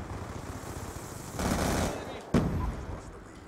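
Hipfire gunfire in the Black Ops 2 video game: a sustained burst of rapid automatic shots followed by a sharp single blast, loud over steady game noise.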